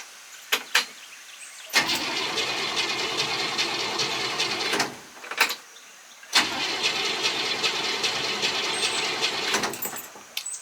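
An old carburetted car with no choke cranks in two long bursts of steady starter grinding, with a pause between them. It stays nearby and loud, the engine sputtering at the edges of each attempt, with no clear sustained idle.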